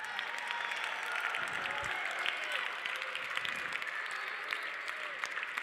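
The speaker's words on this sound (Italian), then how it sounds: "vorrei un applauso per il megafonista" An audience at the closing ceremony of a festival main stage gives sustained applause, a dense continuous clatter of many hands at moderate volume that carries on for several seconds.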